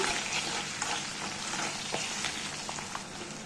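Onion and curry leaves frying in oil over a low flame, a soft, steady crackling sizzle with faint stirring scrapes, fairly quiet and without any voices.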